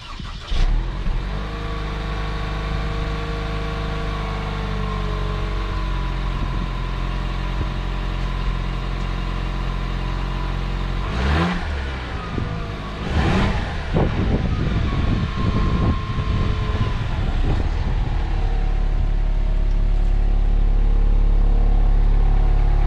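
A 2021 Toyota Supra fitted with an aFe 3-inch catback exhaust sits running close by, its low droning idle rising into a couple of sharp revs midway before settling into a deep, steady rumble.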